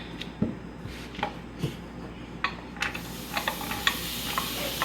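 A tablespoon of butter melting in a skillet over medium heat gives a faint, steady hiss dotted with small irregular pops and crackles.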